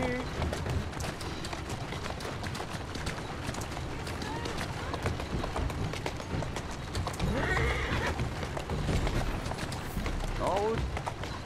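A mare in Assassin's Creed Syndicate trots with steady clip-clop hoofbeats and lets out whinnying neighs, while someone talks over the action throughout.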